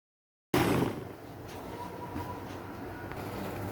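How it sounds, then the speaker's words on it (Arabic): A blender's steady motor whir runs continuously after silence, starting with a louder burst then settling into an even, droning hum while blending lemon, mint and water for a mojito. "ونشغل الخلاط بتاعنا"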